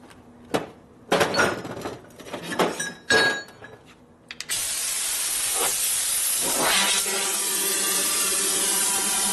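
Several loud thumps and clanks in a garage during work on a 1967 Harley-Davidson shovelhead, then a blower kicks on with a strong, steady hiss of hot air that continues to the end; no talk.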